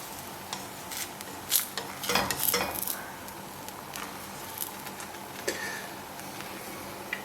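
A blini, a Russian pancake, cooking in a pan just after being flipped with a spatula, a soft steady sizzle with scattered clinks and scrapes of utensil on pan, a brief louder clatter near the middle, no talking.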